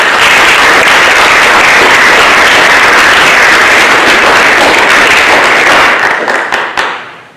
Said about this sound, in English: please join me once again in applauding all of our new members